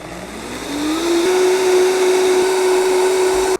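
An electric blender whizzes an olive oil salad dressing with salt and black pepper, its motor whining up in pitch, then holding a loud, steady hum before cutting off abruptly.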